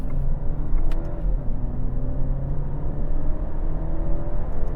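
A 2025 Alfa Romeo Giulia engine runs with a smooth, steady rumble and whir, loud and close, holding a fairly even tone with slight swells rather than sharp revs.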